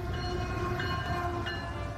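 A Norfolk Southern double-stack freight train passes near Pittsburgh, its steady heavy rumble and rail noise filling the scene continuously with faint tonal whine above, loud and close with no talking.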